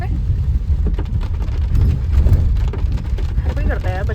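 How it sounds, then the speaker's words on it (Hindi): Heavy rain pours down steadily, a dense broadband wash with a low rumble underneath, close and constant throughout. "और बारिश इतनी तेज़ हो रही है"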